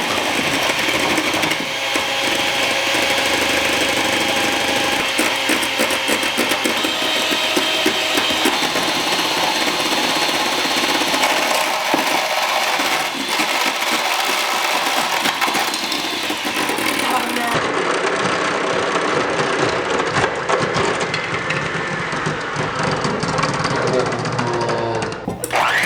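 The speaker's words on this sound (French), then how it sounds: "va mélanger les blancs d'œuf à vitesse moyenne" An electric mixer beats egg whites at medium speed for a meringue while sugar is added, giving a steady, loud motor whir that runs without a break throughout, with a voice talking over it.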